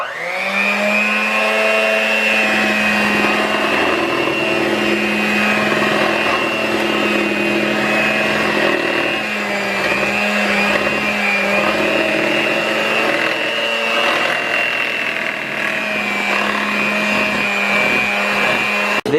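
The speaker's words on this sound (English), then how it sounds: "Now for the second noisy part, mixing them." A steady, loud electric mixer whirs without pause through gingerbread cookie dough, its motor hum holding an even pitch with faint wobbles as the beaters churn, with no talking.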